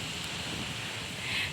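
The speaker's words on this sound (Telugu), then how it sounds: "అయ్యో ఫుల్ గాలి వస్తుంది ఇక్కడ" Strong wind blows steadily at an outdoor temple, a broad airy rush that swells slightly near the end, with no talk.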